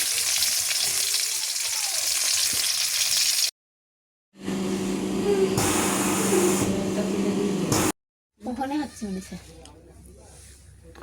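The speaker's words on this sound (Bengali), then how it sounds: "আমি মাছ ভাজি করে নেই" Fish frying in oil in a home kitchen, a loud steady sizzle broken by two abrupt silent gaps, with voices talking over it toward the end.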